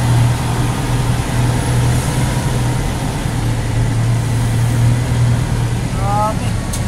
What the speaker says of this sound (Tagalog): Traffic ho, skyway, traffic.